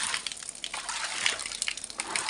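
Water gushing out through a bathroom floor drain after the roof was washed, a loud close continuous hiss and splash with small sloshing surges and no voices.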